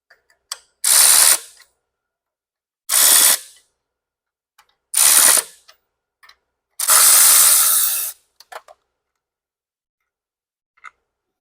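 A ratchet tightens the outer spring plate on a vintage Harley clutch in four bursts of rapid clicking about two seconds apart. The last burst runs longer, and faint ticks follow.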